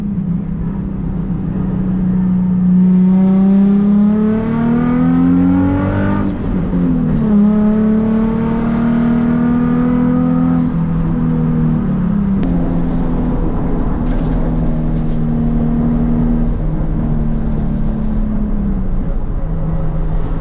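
A Nissan 350Z fitted with an ISR exhaust, comparing blast pipes against a single exit, revs up from a deep idle to a rising howl, drops back, then holds a steady drone before settling, loud and close.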